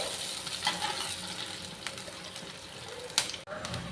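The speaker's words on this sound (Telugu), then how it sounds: "ఇవన్నీ బ్రౌన్ కలర్ వచ్చేదాకా ఇలా సిమ్లో కలుపుకుంటూ ఉండాలండి" Garlic, onions and mustard seeds fry in a pan on low heat while being stirred, giving a steady soft sizzle broken by a few brief scraping clinks, with no one speaking.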